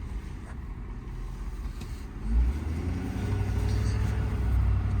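A 2022 Ford F-550 crew cab 4WD truck driving, heard from inside as a low, steady engine rumble that swells briefly before settling into a continuous drone, fairly quiet and without talking.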